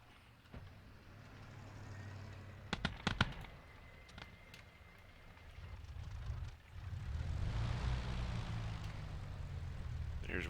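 A de Havilland Mosquito engine starting in the DCS flight simulator: a few sharp starter clicks and pops, then a rising, rumbling engine roar that settles into a steady drone, with faint talk early on.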